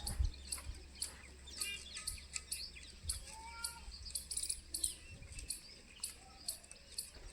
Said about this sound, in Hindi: बधा कबूतर भेगा थईने खाए है।